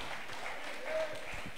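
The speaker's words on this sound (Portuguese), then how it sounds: "Será que você pode dar uma salva de palmas para Jesus?" A church congregation applauds during a service with faint, diffuse clapping heard at a distance, and some voices are mixed in.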